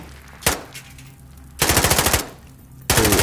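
Bursts of automatic gunfire from the Call of Duty: Modern Warfare video game: a single sharp shot, then two rapid-fire volleys of about ten rounds each, loud and close.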